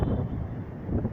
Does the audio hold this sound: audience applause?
no